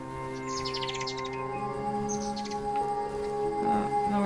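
Small birds chirp in short, high tweets over a steady layer of tonal game music and ambience in the video game NIVA, the calls light and fairly faint.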